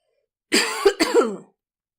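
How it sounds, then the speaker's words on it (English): A short burst of harsh coughs and throat clearing, two or three quick hacks close to the mic in an otherwise quiet space. "whenever I get excited it brings on coughing fits"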